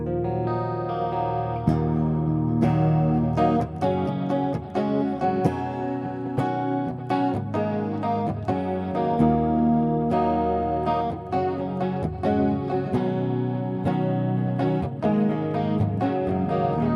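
A 1959-style Eastwood Airline 3P DLX electric guitar played through a clean Helix patch, ringing chords and picked notes in a continuous, full-bodied passage with no talking.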